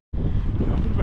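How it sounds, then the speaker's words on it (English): Brief gust of wind buffeting a microphone on a hilltop, a loud, rough low rumble that starts abruptly and holds steady. "Fresh wind up here."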